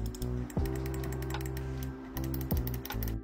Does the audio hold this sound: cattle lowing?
no